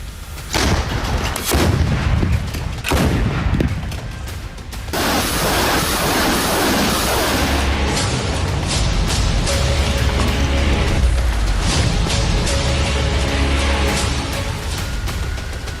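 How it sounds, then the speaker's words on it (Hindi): Russian missile strikes on Ukraine, including KN-23 ballistic and Iskander missiles, produce heavy booming blasts and crackling, rumbling detonations that run loud and continuous through the whole stretch, with no voices. "रूस ने यूक्रेन पर KN-23 बैलिस्टिक मिसाइल से भी हमला किया।"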